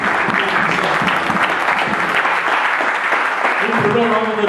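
A church congregation at a Sunday service applauds loudly and steadily, a dense, continuous wash of clapping from many hands that carries on without a break.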